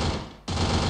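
Gunfire in a video game during a viewer duel match, heard as loud rapid bursts that break off briefly and then resume, close and dense.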